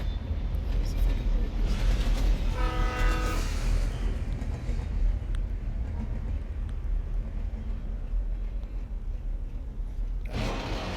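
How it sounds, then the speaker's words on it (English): A train in the video game Alan Wake Remastered rumbles past under steady low noise, with a short horn-like tone sounding partway through. "Oh, it's a train."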